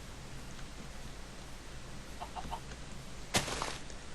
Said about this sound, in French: J'en ai entendu encore une. Poule.